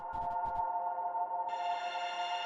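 A granular reverb synth layer in a future garage track holds steady, shimmering sustained tones, with a few soft pulsing blips early on and a brighter overtone layer entering halfway through.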